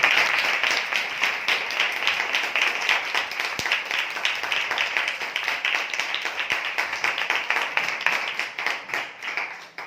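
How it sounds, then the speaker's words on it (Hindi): Audience clapping in welcome at a gathering, a sustained burst of many hands with some individual claps standing out, steady throughout before tapering off at the end. "जोरदार ताली बजाकर स्वागत करें।"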